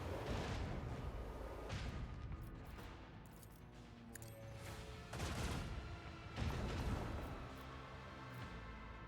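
Artillery fire in the Warhammer 40,000: Rogue Trader video game: several heavy booming blasts roll out in bursts, loud and close, each followed by a long rumbling decay.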